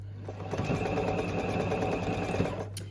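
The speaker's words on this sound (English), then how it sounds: "Top stitch all around the edge" Sewing machine top stitching around a fabric edge, a fast steady mechanical whirr with rapid needle clatter running continuously and close by for a few seconds before stopping.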